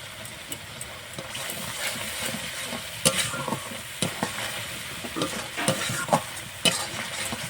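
Spiced masala paste for egg palak paneer is stir-fried in a pan until the oil separates, with a steady close sizzle broken by repeated scraping strokes of a spoon across the pan, with no talking.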